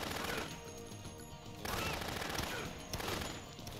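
Rapid gunfire in the video game Dead Rising, bursts of shots crackling in dense clusters with brief gaps between them, moderately loud and without talk.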